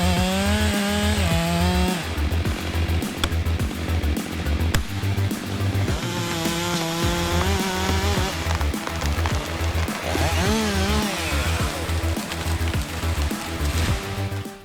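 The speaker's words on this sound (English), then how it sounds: "the Stihl MS462 chainsaw looks powerful and flexible, easily cutting trees up to 1 m in diameter" A Stihl MS462 chainsaw cutting through a large tree, its engine snarling loudly and close in a pulsing rhythm as the chain bites the wood, pitch bending as load shifts, continuing throughout.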